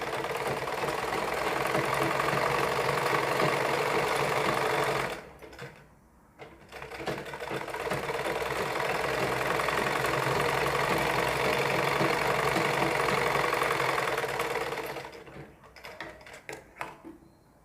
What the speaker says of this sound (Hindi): हम इसे दूसरी साइड भी इसकी पाइपिंग को निकालते हुए सिलाई लगानी है।